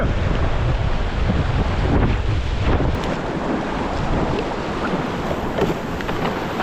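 Strong flow of Coal Creek in the lower canyon of Anthracite Creek, a dense, loud, continuous rushing of water, broadband and steady throughout with some wind buffeting on the microphone.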